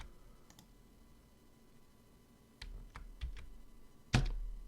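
Keys on a computer keyboard are pressed while working in 3D modeling software, a few scattered light clicks followed by a sharper, louder tap near the end, close and quiet, with no speech.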